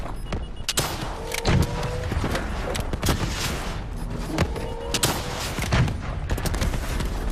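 Loud, sustained gunfire from Call of Duty Black Ops III, with rapid automatic bursts and heavier shots stacked together and a few metallic mechanical tones running through the barrage.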